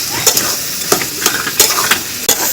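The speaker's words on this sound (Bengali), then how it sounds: "এটা এইভাবে এখানে নাড়তে থাকি।" Continuous sizzling as a spiced pickle mixture made with kul (jujube) fruit is stirred in a hot pan, with a few distinct scraping strokes of the spoon at irregular intervals, loud and close.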